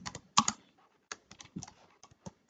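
Keys clatter on a computer keyboard in short, irregular bursts of close, crisp taps separated by brief pauses, with no other sound around them.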